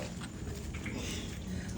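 A dog that fell into a well at night whimpers and pants softly amid a constant noisy background, with no clear talking.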